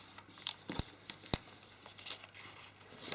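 Origami paper is creased and pressed flat while folding an open-back hexagon twist tessellation, giving faint crinkles and a few sharp crisp snaps of paper, close and quiet.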